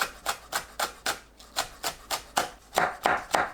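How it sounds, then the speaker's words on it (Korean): A knife chops green onions into small pieces on a cutting board, about a dozen crisp, evenly spaced knocks at a steady rhythm, close and clear with no talking. "파를 작게 썰어줍니다."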